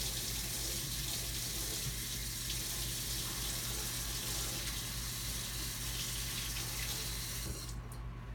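Kitchen tap water runs steadily into a sink while a glass jar is rinsed off, a continuous close splashing rush that stays even throughout and cuts off abruptly at the very end, with no talking.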